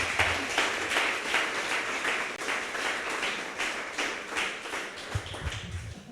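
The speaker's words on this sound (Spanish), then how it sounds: "Denle ese aplauso al Señor." A church congregation claps in a steady rhythm, the even beats repeating at a moderate tempo across the whole stretch, with a diffuse, roomy sound and no talk on top.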